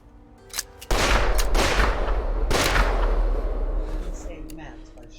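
Gunfire in the horror game The Quarry, a sudden loud blast followed by a rolling burst of shots and echoing reverberation, close, with a second sharp report and faint speech around it.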